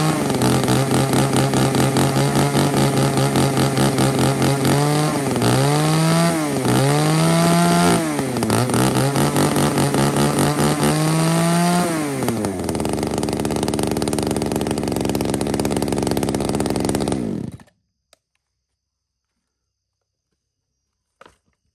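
Loud, close two-stroke engine of a Japanese 33.4cc chainsaw, idling then revved in several rising and falling bursts before settling and cutting off abruptly, then silence.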